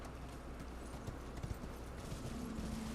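Hooves of a goat-like horse mount clip-clop in the video game Elden Ring, a quiet, steady run of soft footfalls over a low background bed with no voices.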